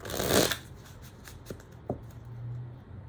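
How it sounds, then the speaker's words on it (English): Tarot cards being shuffled in a quick riffle, followed by a couple of soft taps and light shuffling noise, close and fairly quiet. "how do you know when to stop shuffling?"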